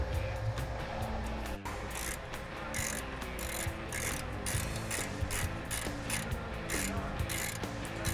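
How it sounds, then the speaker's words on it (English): A ratchet clicks rapidly and evenly as it torques the brake caliper bolts on a Nissan G37 front brake, close and alone with no talk. "we're going to torque these to spec"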